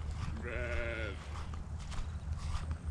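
A sheep bleats once from a farm pen, a clear, wavering cry of about a second set against outdoor background noise.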